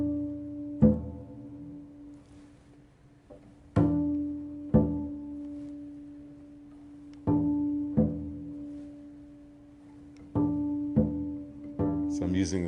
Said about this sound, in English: I can also play this D and match it up to the exact same octave